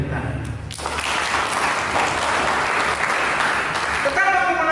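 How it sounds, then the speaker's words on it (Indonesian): A church congregation claps together during a sermon, a full burst of applause rising suddenly and holding steady before a voice starts to come back in at the end. "Berikan tepuk tangan."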